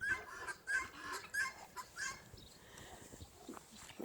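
Faint, harsh calls from female guinea fowl repeat three times in the first second and a half, then fade into a low rustling outdoor background.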